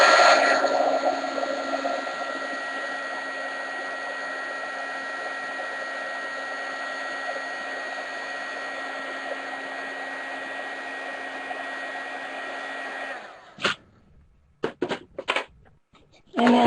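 Heat gun blowing hot air onto a piece of tin can resting on an old tile: a steady, loud airy roar for about thirteen seconds, then it cuts off, followed by a few brief knocks and short bursts.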